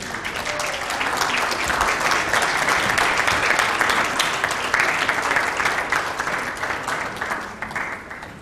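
A gala audience at the A D King Youth Empowerment event gives Senator Adeleke a steady round of applause, dense and sustained, filling the hall and tapering off near the end.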